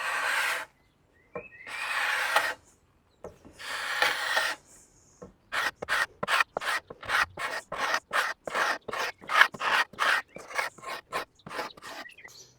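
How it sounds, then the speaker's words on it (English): A super sharp scraper works wax finish off a straight piece of wood in short rasping strokes, a few long passes followed by a quick run of rhythmic close scrapes with brief pauses between. "Just work the wax off."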